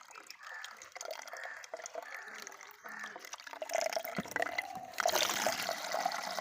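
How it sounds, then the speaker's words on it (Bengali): Water running from a rooftop tap, a steady wet splashing and trickling that swells louder and fuller for the last second or so, with some faint indistinct voice in the background. "আমি চলে এলাম আমাদের সাদের কলে জল নিতে"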